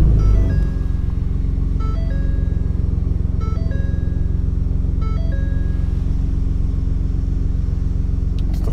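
A 2018 Ford Shelby Raptor engine starts with a brief loud burst, then settles into a steady, deep, close idle rumble while a few electronic cabin chimes beep over it.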